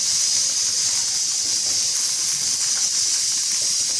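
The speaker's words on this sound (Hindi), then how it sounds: "तो यहाँ ऑयल गर्म हो चुका है और प्याज हम ब्राउन कर लेते हैं हल्की।" Onions brown gently in hot oil for a dhaba-style moong dal. A loud, steady, close sizzle hisses unbroken throughout, with no talking over it.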